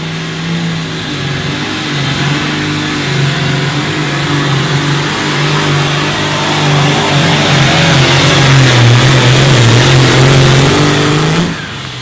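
A super farm pulling tractor at an outlaw pull in Britt, Iowa, drags a weight sled with its engine held at a loud, sustained roaring rev. The pitch holds steady, then dips slightly and rises again before cutting off at the end.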